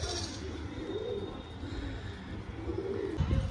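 Black-beaked pigeons in a pigeon shop coo in low, rolling bursts, fairly close but soft against a murmuring indoor background.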